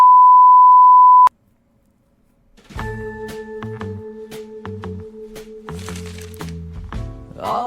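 A long steady answering-machine beep tone sounds alone, then cuts off abruptly before music begins.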